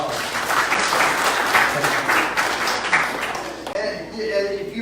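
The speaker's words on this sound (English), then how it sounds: "Give those guys a round of applause." A church congregation applauds during a Bible study session on 1st and 2nd Samuel, a steady wash of clapping with voices mixed in, thinning out near the end as a tonal sound takes over.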